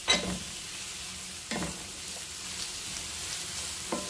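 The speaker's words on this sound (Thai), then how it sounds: "ผัดหอมให้สลด" Onions sizzle in a pan for an Arabic-style fish curry, with a steady close hiss and three distinct scraping stirs spaced a second or two apart. No one speaks.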